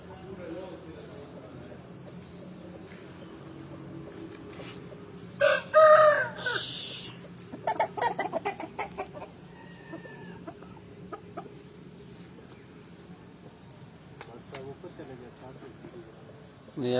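A rooster crows loudly once near the middle, followed by a burst of clucks and squawks, then fades to a quiet barnyard murmur. Someone speaks at times around it.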